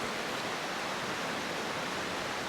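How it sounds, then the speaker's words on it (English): A mountain stream flowing, a steady, loud broadband rush of water, close and continuous, with no voices. "Beautiful mountain stream."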